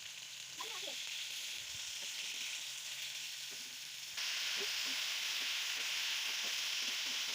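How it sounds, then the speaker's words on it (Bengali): Pieces of rohu fish shallow-frying in hot oil in a pan, a constant soft hiss of sizzling that steps up louder midway, with faint occasional stirring clicks. "তো লাল করে কড়া করে ভেজে নিতে হবে রুই মাছগুলো।"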